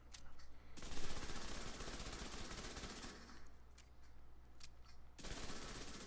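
SMG fire in The Division 2, an MPX: long sustained automatic bursts, steady and fairly loud, with a brief gap partway through.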